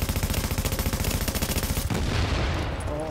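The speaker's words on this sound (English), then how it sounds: "Who the fuck is shooting me?" Rapid automatic gunfire in a Darkzone shooter game, a fast rhythmic burst of shots for about two seconds, then a heavier rumbling impact as the firing stops.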